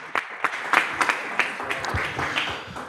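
An audience applauds a panel at the close of a discussion, with scattered, fairly sparse claps that start sharp and thin out into a lighter patter.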